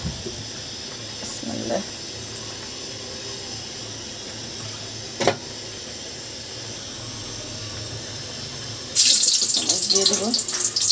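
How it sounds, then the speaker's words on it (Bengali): Cut bitter gourd is washed under a running kitchen tap. Near the end the water suddenly gushes with a loud, close, steady rushing hiss after mostly quiet moments. "ভালোভাবে পরিষ্কার করে নিচ্ছি ধুয়ে।"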